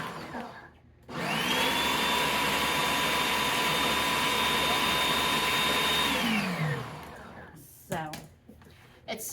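An electric grinder grinds dehydrated garden peppers with a loud, steady motor whir that starts abruptly, holds for about five seconds and then winds down. Brief sounds follow afterward.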